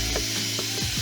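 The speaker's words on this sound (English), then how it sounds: "You're going to loosen those screw catches, make sure that they're all fully unscrewed" A screwdriver loosens the screw catches on an electric unicycle's shell, giving a short run of close, dry ratcheting clicks and small scraping turns, with no voices.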